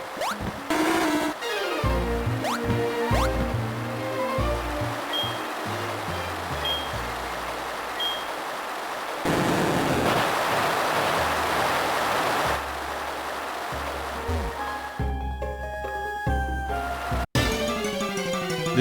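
Rushing water at Tojo Falls in Pokémon HeartGold, a constant loud waterfall wash blended with in-game music and short game effects.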